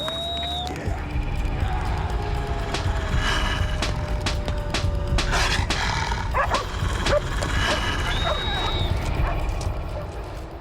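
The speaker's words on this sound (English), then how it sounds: "The frenzy of noise seems to attract the attention of the dogs in the nearby farmhouse." Dogs at a nearby farmhouse in the Australian outback bark in scattered bursts over steady wind noise, with tonal whistling sounds drifting in and out and some rustling and knocking close by.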